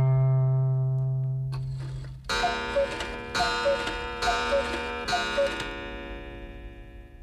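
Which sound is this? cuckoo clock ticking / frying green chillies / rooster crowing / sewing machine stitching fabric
cuckoo clock ticking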